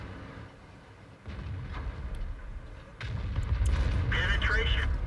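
Tank cannon fire in the video game World of Tanks, playing an FV 4202(P), comes as heavy low booms at about 1.2 and 3 seconds, followed by rumbling battle noise with voice chatter alongside.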